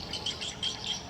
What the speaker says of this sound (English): So what you're hearing is not actually the bird, but it's a recording of the birds to attract